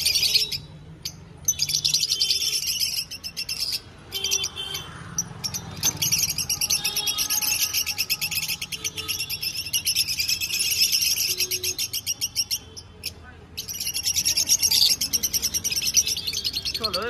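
Fischer's lovebirds in a pet shop fill the space with dense, continuous high-pitched chirping and chatter, many birds calling at once, close and loud, with only brief gaps.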